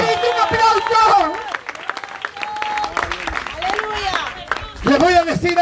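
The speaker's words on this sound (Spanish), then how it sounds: "Dale un aplauso al Cristo de la gloria. Un aplauso." A church congregation applauds amid loud, excited voices and shouting, the clapping mixed under overlapping speech throughout.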